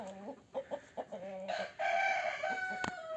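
Chickens cluck in a coop in a few short close clucks, then a rooster lets out a long drawn crow that carries to the end, moderately loud with no talking.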